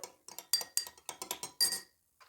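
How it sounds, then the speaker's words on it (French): A spoon clinks against a bowl as cider vinegar is stirred into mustard, a brisk, close series of light metallic taps and scrapes in quick rhythm, then a pause and one last soft clink. "vous calculez une cuillère à soupe de vinaigre de cidre que vous mélangez bien avec la moutarde"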